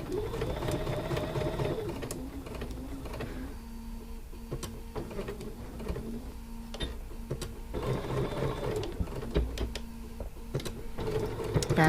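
A sewing machine stitches a Y seam across a quilt, running in steady bursts of rapid needle hum with short pauses between them, close and fairly loud, with no talking.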